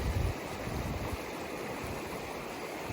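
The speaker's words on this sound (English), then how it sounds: "I'm standing here in this beautiful stream." A mountain stream flows beneath a snow-covered peak, a steady, soft rushing wash with a brief low thump at the start and no talk.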